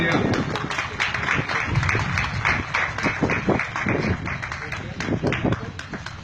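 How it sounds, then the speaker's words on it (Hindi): Sustained audience applause and clapping at a poetry gathering, loud and continuous throughout with a hum of crowd voices mixed in. "तालियां।"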